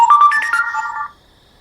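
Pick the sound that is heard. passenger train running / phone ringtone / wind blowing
phone ringtone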